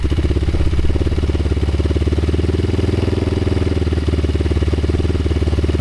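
A new 2022 150cc motocross bike engine idles steadily up close, a loud, even, rapid thumping putter that holds the same pace throughout with no revving.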